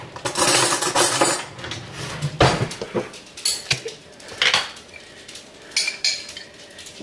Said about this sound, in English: I'll get a spoon for the salsa.